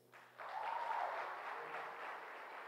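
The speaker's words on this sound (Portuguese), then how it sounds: "Podemos aplaudir eles?" A church congregation applauds during a communion service, a soft, fairly distant wash of clapping that starts abruptly and holds steady with a faint tonal sound over it.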